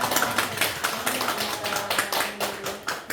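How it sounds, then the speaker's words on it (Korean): A church congregation at a Sunday worship service claps steadily together to welcome back a returning deaconess, many hands making a dense, rhythmic applause throughout. "우리 박수로 환영해주도록 하겠습니다"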